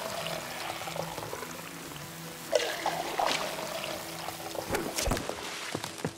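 Water pours and trickles as a plant is watered in the video game It Takes Two, a steady splashing stream with a few sharper splashes, moderately quiet.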